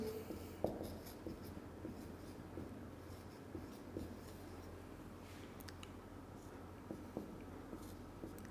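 Chalk or marker writing on a board during a Class 10 physics lecture, a steady scratchy scrawl with short strokes and taps, fairly close, running alone under a low room hum.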